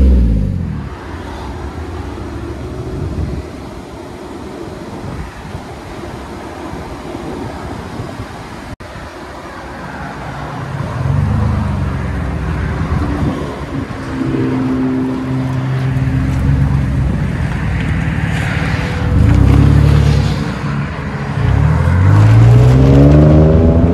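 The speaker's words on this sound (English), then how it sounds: "Tell us in the comments what you guys think of the Kooks exhaust." A 2021 Chevy Silverado 4.3-liter V6 with a Kooks straight-through exhaust idles with a deep rumble, then revs and drives off, its loud throaty note rising and falling in several pulls.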